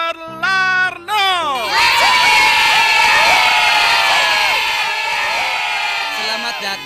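A crowd cheers and shouts for the magician Master Larno, with high-pitched whoops and excited yells rising sharply after a short musical opening and continuing loudly before tapering off.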